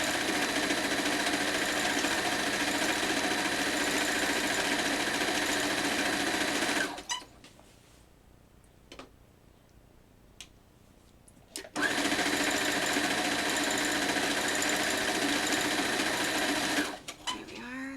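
A sewing machine stitches through jersey fabric for a T-shirt quilt, a loud steady motor whir running for several seconds, stopping for a quiet pause with faint clicks, then starting again at the same pace.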